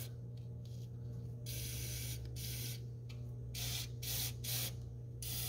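Fluid Film rust protection sprayed inside a truck body: repeated aerosol bursts of hissing, some long and some short, close by over a constant low hum.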